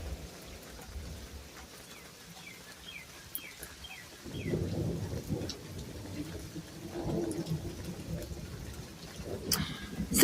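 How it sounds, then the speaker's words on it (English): Heavy rain falls during a big storm while thunder rumbles in, a steady patter with a deep rolling swell midway and faint bird calls early on. "So yeah, thunder is happening, guys."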